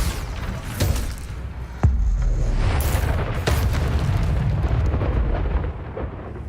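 A Bombarda spell blasting in Hogwarts Legacy, deep booming explosions with sharp cracks and rumbling low debris that rolls on after each hit, loud and close.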